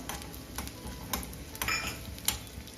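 Shallots and six cashews frying in a pan for a Kerala stew, giving a faint low crackle with a few light spoon taps and stirs over a couple of seconds; no speech.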